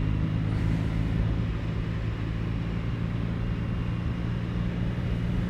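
A BMW R NineT Urban G/S motorcycle sweeps through curves with a steady low engine drone and constant wind rush, loud and unbroken, heard from the rider's position.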